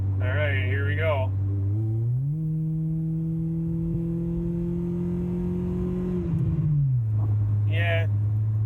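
A Honda car with a newly installed muffler drones steadily from inside. The exhaust note climbs under wide-open throttle, holds a fairly muted, even tone for several seconds, then drops back as the throttle eases.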